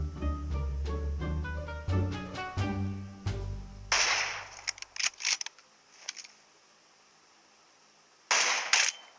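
Gunfire in the mobile battle royale game BGMI: music gives way to a burst of loud shots, a few scattered cracks, a quiet gap, then another loud burst near the end.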